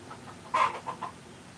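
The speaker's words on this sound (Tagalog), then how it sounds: "Ganahan mo manok? Nay manok diri sa lingan." A chicken gives a short burst of close clucks, one louder squawk-like cluck followed by a few softer ones, over a quiet, slightly hissy background.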